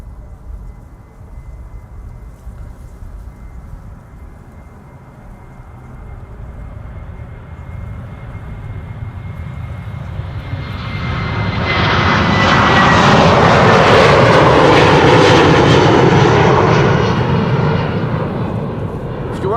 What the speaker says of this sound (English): KLM flight 1775 going to Berlin, 737-700.